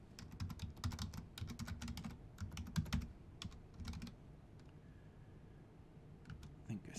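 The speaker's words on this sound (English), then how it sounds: "Let me just type it again." Rapid keystrokes on a computer keyboard as an email address is typed, in quick bursts of clicks with short pauses between runs, close and fairly clear over a low background hum.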